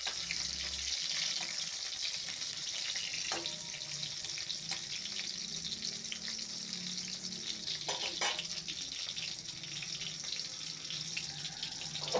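Hilsa fish frying in oil, a steady close hiss of sizzling throughout, with a couple of sharp spatula taps and scrapes partway through.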